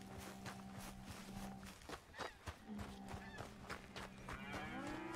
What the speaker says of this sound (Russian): Так, я все-таки могу подоить коровок